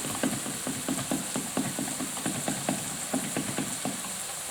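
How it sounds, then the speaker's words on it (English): A fork whisks and breaks down a stock cube in a dish for shepherd's pie, giving a steady run of quick, light scraping taps close by, with no talk. "My stock cube, I'm going to break down just with a fork, just to whisk it a little."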